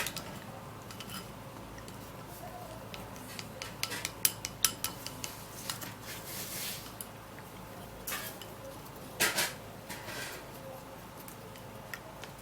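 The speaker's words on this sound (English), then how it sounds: "So now we'll have to stir and mix all the ingredients together." Skin-care mask ingredients stirred and mixed in a bowl make faint, scattered clicks and scrapes, sparse at first and then clustering into brief bursts of tapping against a quiet background.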